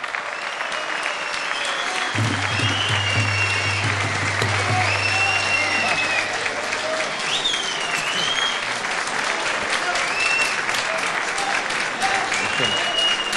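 At a 2018 sports club gala night in İzmir, an audience claps continuously as the club president is welcomed on stage, with a low electronic hum sounding for several seconds near the start.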